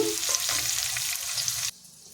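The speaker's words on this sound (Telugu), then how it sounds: "బెండకాయ ముక్కలు తింటే ఏగుతున్నాయండి బాగా ఎర్రగా వేసుకోవాలి" Okra pieces fry in a pan for a garlic-chilli okra dish, sizzling and hissing steadily with faint stirring, close and moderately quiet, then stopping abruptly near the end.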